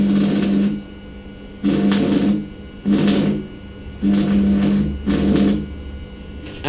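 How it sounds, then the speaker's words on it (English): MIG welding a bracket onto the dump pipe of a turbocharged M40 E36 BMW: five separate crackling, buzzing welding bursts of about a second each, close and loud, with short quiet gaps between them. "this here is going to be welded to the dump pipe"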